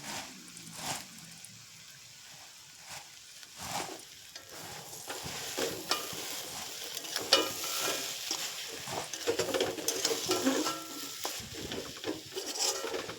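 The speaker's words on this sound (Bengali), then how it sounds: "এখানে জনপ্রিয় চানাচুর আছে, এগুলো দিয়ে ভালো করে মাখবো। মুড়িটা ভালো করে মাখিয়ে নেব" Puffed rice (muri) and chanachur are mixed together by hand, giving soft, faint crunchy rustling and stirring in irregular bursts that grow busier toward the end.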